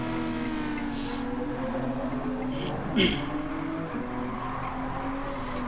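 Race car engine in Gran Turismo 7 drones steadily through the final turn of a lap, with harmonic whine rising and falling and a brief thump midway, while a voice talks over the top.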